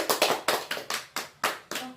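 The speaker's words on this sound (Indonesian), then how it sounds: "Beri tepuk kepada Ibu Surya dulu" An audience claps for Ibu Surya during a child-protection training session, about ten sharp claps in a regular, rhythmic pattern, close and clear with no talking.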